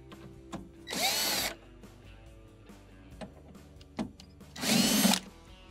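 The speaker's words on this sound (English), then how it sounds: "we're going to go ahead and remove the 2 5/16 screws holding the cabinet to the base." A power drill backs out 5/16 screws holding an ice maker cabinet to its base in two loud whirring bursts, each about half a second, with faint clicks and taps between them.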